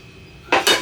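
Metal carrot pans clatter together twice in quick succession while being sorted for sausage making in a home kitchen, two short bright clanks close by after a quiet pause.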